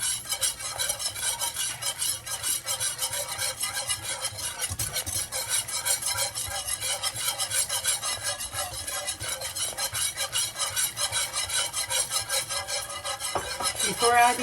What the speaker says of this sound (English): adding the same amount of all-purpose flour and whisk so it dissolves and mixes with the ingredients mixed together